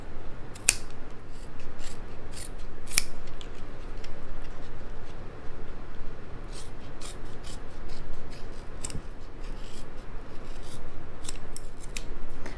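Scissors trim thumb orthosis material along marked lines, giving crisp repeated snips and sliding cuts at an irregular pace, close and clear over a faint background hiss.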